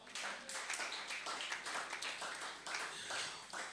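A church congregation claps together in acclamation of the Lord, a dense run of hand claps with a loose rhythmic pulse, moderately close and continuous with no speech.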